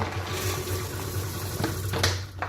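Soy wax is poured from a bag into a container for candle making. A steady, rushing, filling sound runs for a couple of seconds, close by, with a few sharper rustles near the end and no talking.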